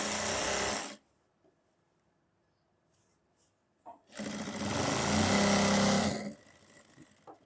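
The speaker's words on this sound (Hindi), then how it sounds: "हमें यहाँ पर किनारे की सिलाई लगानी है इसी कपड़े पर" A sewing machine stitches the folded edge of trouser fabric in two loud bursts of rapid whirring, separated by a quiet pause with faint handling clicks.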